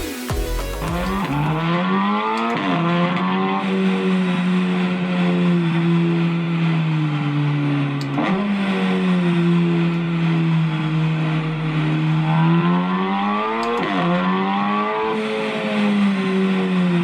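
A car engine in a sim racing video game screams at high revs, holding a steady loud drone and dipping briefly at each gear shift before climbing again, with no other sounds.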